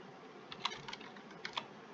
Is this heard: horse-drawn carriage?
no